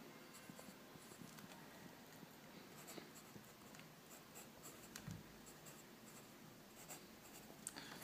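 Faint pen or pencil scratching as a formula is written out by hand during a physics explanation of the venturi effect, soft continuous strokes with small taps, quiet and close, with no voice.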